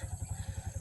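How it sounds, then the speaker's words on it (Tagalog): A motorcycle engine idles or runs at low revs, close by and steady, giving a rapid even low thumping pulse throughout with a faint rattle over it and no talk. "Yan yung motor namin."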